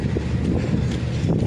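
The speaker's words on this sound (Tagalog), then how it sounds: "Ang hangin." Strong wind roars across the microphone on a boat trip to Malalag, a loud, steady buffeting gust that continues throughout with no voices.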